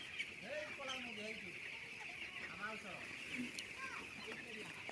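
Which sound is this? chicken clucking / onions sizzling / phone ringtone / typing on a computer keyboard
chicken clucking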